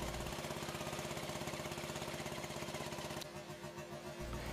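Corded 120V electric drill powered from an alternator welder at reduced voltage, running steadily at lower speed on a job, a continuous loud motor drone that drops off near the end.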